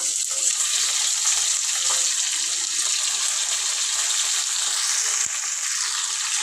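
Chicken sizzles in a pan with softened tomatoes and green chillies, a close, steady hissing fry with a faint knock partway through and no speech.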